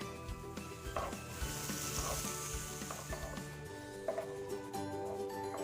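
Soaked jeerakasala rice frying with spices in a pan for Kerala beef dum biriyani, a steady close sizzle with occasional stirring scrapes throughout, no talk.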